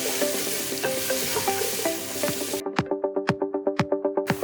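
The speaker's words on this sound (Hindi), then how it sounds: "अब एक फाइनली चॉपर्ड ओनियन ऐड करें और ओनियन को लाइट गोल्डन होने तक फ्राई करें।" Finely chopped onion fries in a pan with spice paste for bhindi masala, a close steady sizzle that gives way to quick, regular scraping strokes of a spoon stirring against the pan.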